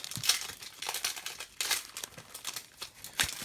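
A Pokémon card booster pack wrapper crinkles and tears open in a string of sharp, close-up crackling bursts, with brief quiet gaps between the crumpling handfuls of foil.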